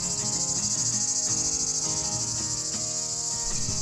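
Cicadas sing in the Greek countryside among olive trees inside old Venetian fortress walls, a dense, steady high-pitched buzzing drone that holds without pause. Faint lower sounds murmur beneath it.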